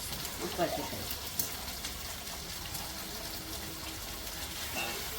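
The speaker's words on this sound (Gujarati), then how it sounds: "તો અડધું પેકેટ જેટલું છોલે મસાલા નાખી દીધું છે તો કે મસાલા થોડા સમ શેકાઈ જાય" Chhole masala spices roast in a pan for Amritsari chhole, giving a faint, steady sizzle with occasional soft stirring clicks, while a voice talks quietly over it.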